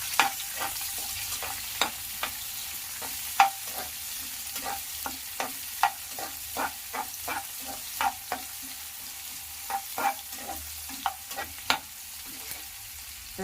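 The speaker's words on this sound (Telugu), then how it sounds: "బీన్స్ చిన్న చిన్న ముక్కలుగా కట్ చేసుకున్నది అందులోకి వేసుకోవాలి. ఇలా కొద్దిగా ఫ్రై చేస్తూ ఉండాలి." Small chopped beans fry in a pan for vegetable upma with a low, steady sizzle, broken by regular sharp taps and scrapes from a stirring spoon. No one speaks.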